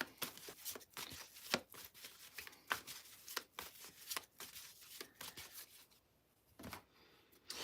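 A deck of tarot cards is shuffled close by in rapid bursts of crisp riffling and flicking, repeated many times with short gaps, then quieter at the end.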